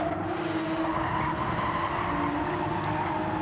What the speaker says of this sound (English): Just hear the cars just scrabbling for grip.